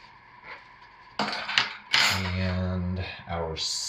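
A metal teaspoon clinks against a container while adding purple colorant for soap making, with a few sharp taps followed by a ringing scrape and a brief clatter, close and clear.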